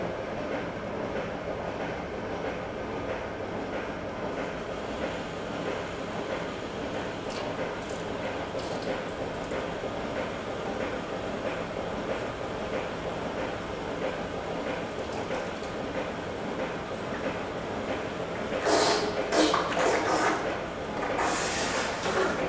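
A steady rushing gurgle of liquid draining out of a barrel, continuous and fairly loud, with a brief hissy surge near the end.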